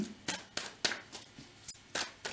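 Tarot cards are shuffled in a quiet room, giving soft, regular riffling swishes and taps about every quarter second, close and faint.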